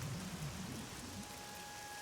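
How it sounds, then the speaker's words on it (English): Rain falls in the video game Oblivion, a soft steady patter with a low rumble at the start, faint and continuous for a couple of seconds with no voices. "I feel like it's been bloody raining for all 3 episodes now."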